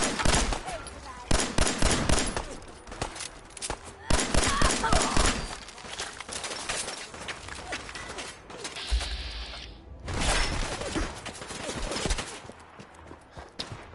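Rapid bursts of gunfire in Fallout 4 crackle loudly in repeated volleys, with mechanical clatter between bursts and a short pause before firing resumes.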